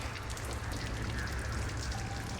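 Steady rain in the video game Lies of P, a dense continuous hiss of drops pattering on surfaces, even and unbroken throughout with no voices.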